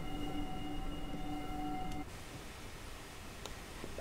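A small engine hauls ex-Lancashire & Yorkshire Railway passenger coaches with a faint, steady rolling rumble. A tonal hum lasts about two seconds, then leaves a quieter wash of rail noise.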